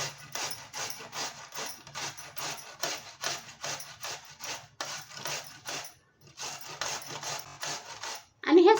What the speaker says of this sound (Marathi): आता ह्याच्यावरती आपल्याला हे मुळा किसून घ्यायचं आहे